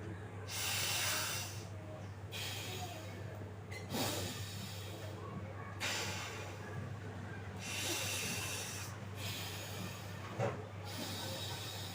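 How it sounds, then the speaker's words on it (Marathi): Alternate nostril breathing during an anulom vilom yoga exercise, slow breaths in and out through the nose as soft hissing swells about every two seconds over a low steady hum. "हा झाला अनुलोम विलोम"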